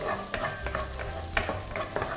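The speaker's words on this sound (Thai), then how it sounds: "ผมจะผัดนะครับให้หอมใหญ่นิ่ม" Onions stir-fried in a pan until soft sizzle continuously and close up, with brisk spatula scrapes and stirring strokes breaking through the hiss.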